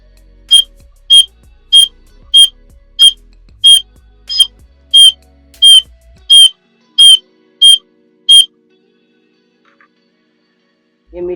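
A traditional folk instrument imitates a partridge call with about a dozen sharp, high, evenly spaced chirps, loud and close, then goes quiet.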